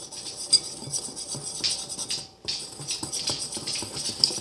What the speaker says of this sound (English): Then you're going to stir together